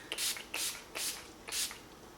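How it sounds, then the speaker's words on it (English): A makeup setting spray mists over a face in four quick, soft hissing bursts at an even pace, close by and fairly quiet. "this is the second time we're using our setting spray, but this is the last time"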